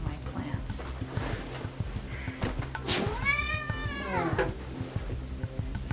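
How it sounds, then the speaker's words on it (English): A house cat that has been chewing on plants indoors lets out one long, drawn-out meow with a rising-then-falling whine, heard close over a quiet background. "Sorry, my cat is eating my plants."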